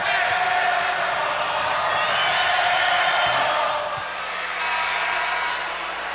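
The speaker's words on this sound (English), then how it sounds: "Crowd calls air ball." Basketball arena crowd at a 1989 Magic versus Pistons game chanting air ball, a dense steady roar of many voices filling the space, dipping briefly near the end.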